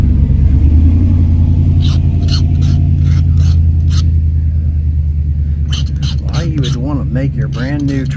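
Loud truck engine rumbling steadily with a deep low drone throughout, rising and revving slightly, with a voice talking over it near the end.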